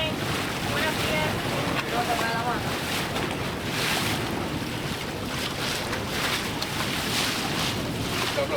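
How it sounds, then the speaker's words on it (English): A pilot boat's engine drones under heavy wind rush and splashing waves as it approaches during a Panama Canal crossing, a steady loud roar with no clear pauses. "Here comes the pilot boat."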